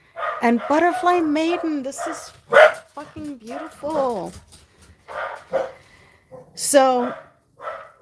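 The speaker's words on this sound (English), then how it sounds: "sorry about the dogs." Household dogs bark and yip intermittently in the background while someone talks continuously over them during a casual card-reading chat.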